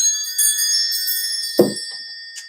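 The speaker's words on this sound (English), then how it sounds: "let's call in spirit with a little bit of wind chime time." A wind chime rings out with bright, sustained metallic tones that shimmer and fade across the clip, and short soft knocks and rustles come in near the middle and again at the end.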